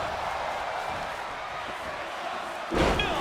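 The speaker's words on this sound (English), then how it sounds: "And he hits Omos with a sling blade!" A wrestler lands a heavy slam in WWE 2K26, a sudden loud thudding impact near the end that cuts through a steady roar of arena crowd noise.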